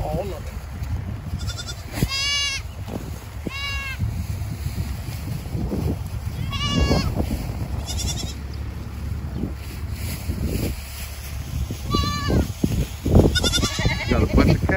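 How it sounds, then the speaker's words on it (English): Goats on a farm bleating repeatedly, several clear wavering bleats at intervals, close by and outdoors in wind, with people talking throughout. "Where's the baby goat? Feed the baby goat?"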